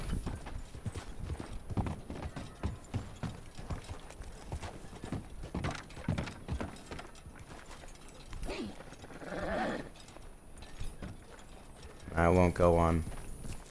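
Horse hooves clip-clop steadily in the video game Red Dead Online, a continuous rhythmic walking gait close by, with someone talking briefly and a horse whinny near the end.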